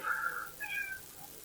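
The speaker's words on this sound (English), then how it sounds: "There's a cat, y'all hear him, don't you?" An ailing cat meows indoors, two short plaintive meows in quick succession, clear and fairly close, with no talk over them.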